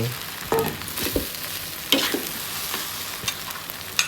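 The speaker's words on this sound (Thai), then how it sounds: "เสร็จแล้วใส่ก้านคะน้าลงไปผัด ผัดให้สุก" Chinese kale stems and leaves are stir-fried for shrimp fried rice, giving a continuous sizzle under scattered clanks and scrapes of a spatula against the pan, close up and with no talking.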